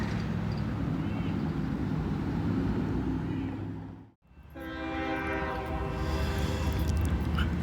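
Train M510 rumbles by in a loud, continuous roar that briefly dips, then returns with a sustained multi-tone horn blast sounding over the passing cars.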